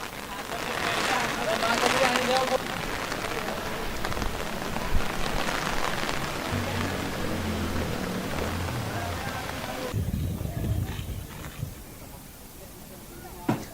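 Torrential monsoon downpour in Dausa district, Rajasthan, with floodwater swamping low-lying streets, a steady dense hiss of rain hammering surfaces throughout, close and loud, with a distant voice faintly underneath.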